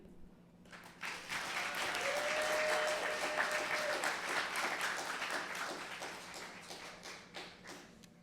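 An audience applauds to welcome a graduate at the Laney College EOPS Program graduation ceremony. The clapping swells quickly after a quiet moment and holds steady, with a brief whistle or cheer rising above it before it slowly tapers.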